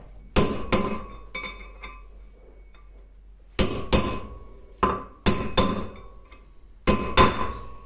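Sharp metallic hammer blows drive a wheel bearing race into a Land Rover Defender 200Tdi, striking in short bursts, ringing brightly, with pauses between groups of two or three hits, close and loud.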